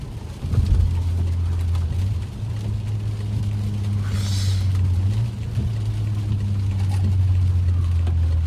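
A straight-piped BMW F10 sedan cruising at night, its exhaust a steady, loud low drone close by with slight swells of throttle and no voices.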